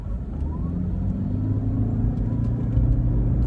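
A Toyota Prius hybrid accelerates in Power mode, its engine and road rumble building as a low, steady drone from inside the car, with no talk.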